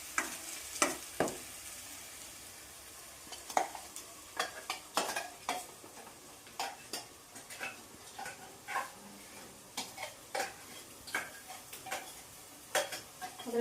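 Chicken frying in a pan with tomato and coriander, cooked Bijapur style: steady soft sizzling under repeated scraping and stirring clinks of a utensil against the pan, fairly quiet and close.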